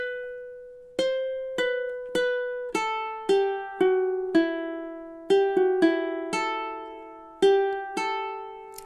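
Stanza of God Rest Ye Merry Gentlemen played campanella style on a bowed-string instrument's plucked open strings, a series of clear, ringing, overlapping notes struck one by one with long decays, alone and close.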